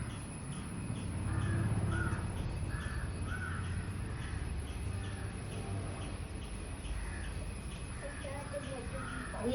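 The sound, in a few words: crow cawing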